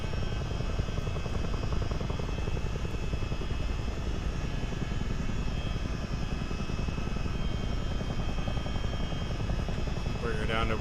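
A CH-47D Chinook helicopter in a flight simulator game makes a flyby, with a steady, loud rotor and engine drone that holds evenly all the way through.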